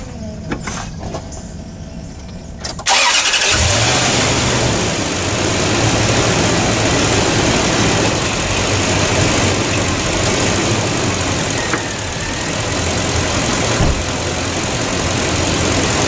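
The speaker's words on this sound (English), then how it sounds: "So you start your truck up." After a few quiet seconds, a 2003 Toyota Tundra truck engine cranks and catches, then settles into a loud, steady idle close by that lasts to the end.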